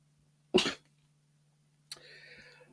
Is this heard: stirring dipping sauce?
no